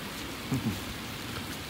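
Heavy rain pours down steadily at a workplace, a dense and constant hiss of drops on surfaces with a couple of low thuds in between and no voices.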